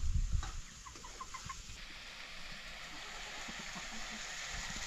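Chickens cluck repeatedly at close range while being fed in a farmyard, with steady outdoor background noise throughout.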